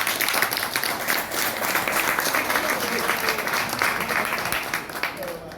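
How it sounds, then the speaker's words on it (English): Sustained applause from a crowd at a Ghanaian gathering held to honour the Asante Kotoko league champions, dense and steady clapping that fills the room throughout, with faint voices mixed into it. "He's done so well. Let's clap for him."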